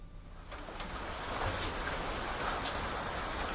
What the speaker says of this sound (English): as rain battered against the office windows